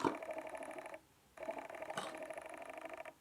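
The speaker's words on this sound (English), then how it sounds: "the noise of the lens focusing" A faint mechanical whirring hums steadily, drops out briefly, then resumes with a small click midway, quiet and close, with no voices.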